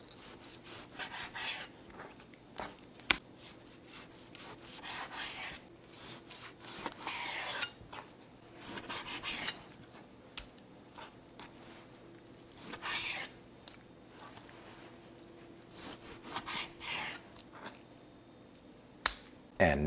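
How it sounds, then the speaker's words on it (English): A knife works through a tough piece of chuck beef at close range, making intermittent rasping, scraping strokes in irregular bursts separated by quieter pauses. "Chuck meat is notoriously tough, so let your knife do the work."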